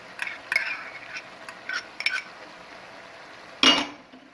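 Quiet metallic scrapes and clinks of a spoon stirring chicken macaroni with chili garlic sauce, ketchup and soy sauce in a pan, in scattered taps ending with one louder clank.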